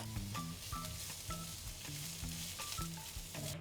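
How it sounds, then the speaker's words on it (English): Thinly sliced onions frying in a pan over low to medium heat, a steady close sizzle with soft crackles throughout and quiet background music underneath. "we're gonna cook it over low to medium heat until it gets nice and soft"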